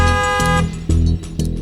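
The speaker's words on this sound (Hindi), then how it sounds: "ड्राइवर हॉर्न दे रहा है" Car horn honking from a waiting driver, sounding in a few sustained tonal blasts separated by short breaks, fairly loud and close, with no talk over it.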